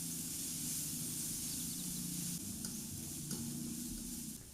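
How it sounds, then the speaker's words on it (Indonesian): Chopped onion and chili sautéing in hot oil in a pan, a steady soft sizzle and hiss with occasional faint stirring scrapes, quiet and close with no talk. "Masukkan bawang dan cabai yang udah kita cincang tadi. Kemudian aduk dan tumis sampai harum."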